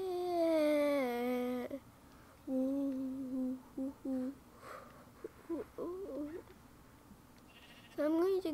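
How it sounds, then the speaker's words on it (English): Sheep in Minecraft bleat in loud, wavering cries that open the clip, then come back in several shorter bursts, with a final bleat near the end and quieter game sounds in the gaps. "So I'm going to kill the sheep. I need its wool."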